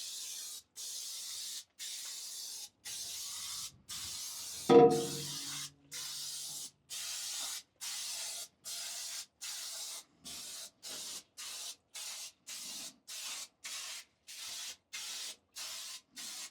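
Aerosol cans of seasoning spray spraying onto a Lone Star Grillz cabinet pellet smoker, a steady hiss in repeated bursts of roughly half a second to a second with short gaps between them, near and fairly loud, with one brief knock partway through.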